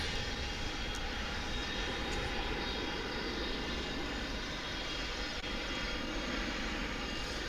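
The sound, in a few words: American Airlines jet departing DFW airport for Denver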